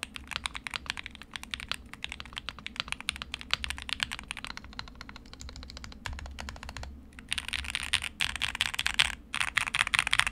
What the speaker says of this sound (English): So here's how the keyboard sounds.